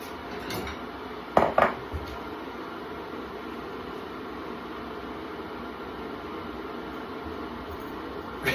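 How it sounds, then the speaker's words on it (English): A bowl is taken out in a home kitchen, making a couple of quick, close ceramic clinks and knocks. Steady background hiss surrounds them, and nobody speaks. "So if I get the bowl out first, see if Snoopy appears."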